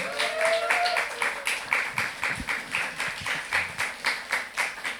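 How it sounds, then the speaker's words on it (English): An audience claps in a steady, rhythmic beat, sustained and fairly loud, with a voice briefly heard near the start. "A big clap for them."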